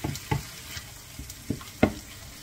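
Meat frying in a pan as fried tomato sauce is stirred in, with a soft steady sizzle broken by several sharp scraping stir strokes.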